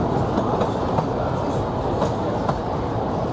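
A Disneyland Railroad train rolls along its track, with dense rumbling and rhythmic clickety-clack of wheels close by, loud and continuous.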